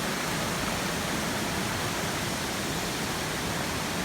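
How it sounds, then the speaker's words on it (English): A waterfall roars as a steady, dense wash of broadband rushing noise, loud and unbroken throughout, with no voices. "I don't know if you guys can see the waterfall"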